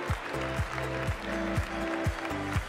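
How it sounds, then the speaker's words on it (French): An audience applauds award-winning students at a school prize ceremony in Tulle-Naves, a short burst of steady, dense clapping with a tonal sound running underneath. "On peut les applaudir très fort."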